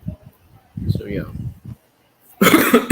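A person speaks briefly, then a single sharp cough bursts out near the end, loud and close.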